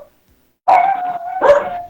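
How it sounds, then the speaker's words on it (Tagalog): A disobedient pet dog barks and whines close by in two drawn-out, yelping bursts after a moment of near silence, loud and alone without talk. "Pasaway na aso to."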